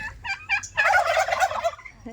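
A turkey gobbles loudly and close in response to a call at a market selling duck meat, preceded by a few short clucking notes and then a sustained rattling gobble.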